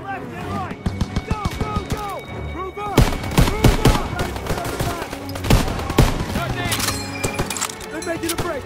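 Loud machine gun fire rattles in repeated bursts during a Call of Duty WW2 battle around a barn, with sharp impacts and explosions, while soldiers shout over the fighting.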